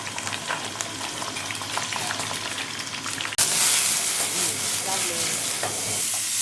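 Vietnamese crispy pancake batter (bánh xèo) frying in a hot pan at a cooking class in Hoi An, a loud continuous sizzle that jumps sharply louder midway as more batter hits the oil.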